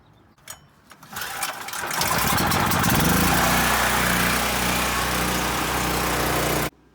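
A portable bandsaw cuts through metal, with a steady, loud mechanical whine and grinding buzz that holds evenly for several seconds before stopping abruptly, after a short quieter lead-in.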